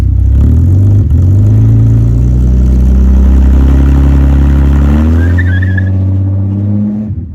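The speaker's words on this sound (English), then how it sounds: "I just did my first test launch in the yard." A Mercedes W203 makes a test launch in a yard, its engine roaring loud and close in a sustained rising rev that climbs in pitch before cutting off, with no voices.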